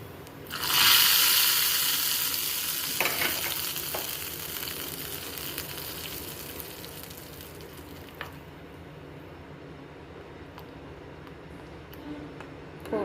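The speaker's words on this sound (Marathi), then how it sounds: "आता मस्तपैकी छान तडका दिलेला आहे" Chili powder dropped into hot ghee for a tadka over dal khichdi bursts into a loud sizzle at once, then fades slowly into a quieter, steady crackle with a few small pops near the end.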